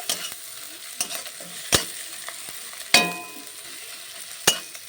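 Grated coconut is mixed into frying masala for banana-flower ghonto, a low sizzle broken by a few sharp spatula knocks against the pan, close and without speech.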